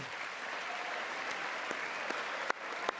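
Audience applause during a Trump speech, a steady wash of clapping at moderate level with a few sharper claps standing out, no talk over it.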